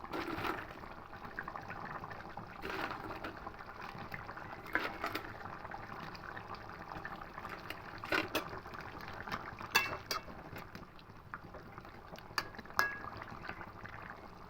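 Curry gravy for mung dal fritters bubbles in a pot, a continuous soft boiling and burbling with occasional clinks of utensils against the pot and no talking.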